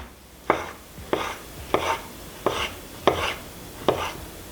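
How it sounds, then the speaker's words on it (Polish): A knife slices avocado into strips on a cutting board in six evenly spaced, crisp chops, each a sharp thud with a brief soft tail, close and clear over quiet background. "kroimy w paseczki."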